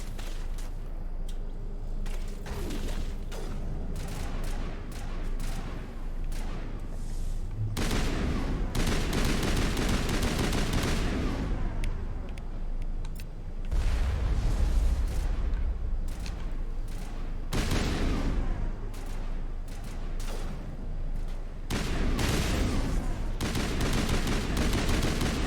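Pistol fire and battle noise in the video game Mass Effect, a dense, loud stretch of repeated shots and impacts layered over constant combat rumble, with no voices.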